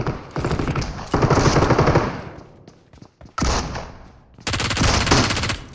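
Automatic gunfire in the battle royale shooter PUBG Mobile, Metro Royale mode, rips out in several long, rapid bursts with brief pauses between them, loud and close.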